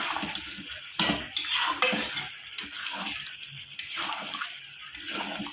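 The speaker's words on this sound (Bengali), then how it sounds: "ভালো করে হালকা আঁচে মশলাটা কষাবো পেঁপে আর আলুর সাথে, যাতে কাঁচা গন্ধটা না থাকে।" Spices sautéed with papaya and potato in a pan give close, bursty scraping and stirring noises with a sizzling wash between them, repeating in short rounds without speech.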